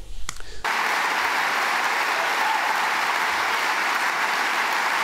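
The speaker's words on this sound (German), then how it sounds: "Und deswegen haben die alle so klatscht." Dense, sustained applause from a crowd at an ÖVP party event. It starts abruptly after a brief moment and holds steady and loud for several seconds.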